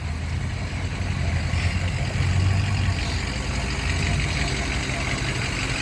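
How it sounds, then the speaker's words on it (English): A tow truck's engine idles nearby on a rainy, cloudy day beside a stream, a steady low diesel rumble that rises slightly midway, set against outdoor background noise. "Tow truck noise."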